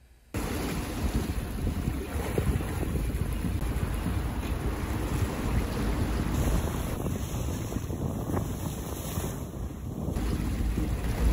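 A sailboat crosses open water from Lunenburg toward Boston under steady wind, with constant loud wind rush and wave wash and no talking.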